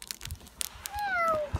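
A cat gives one clear, rising-then-falling meow near the end, close and fairly loud, after a few brief knocks and soft background sounds outdoors by a New Year bonfire in snow.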